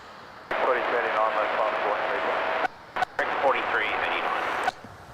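An aircraft takes off from runway 23 at Adelaide Airport, its engine roar rising and holding loud for several seconds, then breaking off briefly before resuming and cutting out, heard over a radio-like feed.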